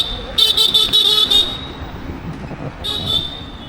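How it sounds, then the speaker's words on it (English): Car horns honk in Mumbai street traffic: a cluster of rapid, loud beeps that pulse several times, then a pause before another longer honk, over a rumbling roadway background with faint voices mixed in. "that's just Mumbai, people just honking for no reason"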